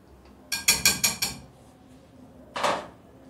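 Spoon or whisk striking a bowl while ingredients are mixed for vanilla cupcakes, five quick sharp clinks in a row, a pause, then one more scraping knock, close and clear with no talk.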